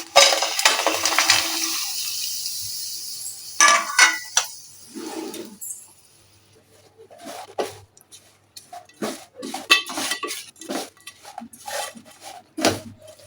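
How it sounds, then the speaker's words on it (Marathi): Jaggery is stirred into a spoonful of ghee in a pan over a low gas flame for a modak filling, with close scraping and clinking of a spoon against the pan in uneven bursts separated by short pauses. "गॅस लो केलेला आहे थोडंसं चमचाभरच तूप घातलंय जास्त नाही आणि मी आता त्याच्यामध्ये गुळ टाकते आहे"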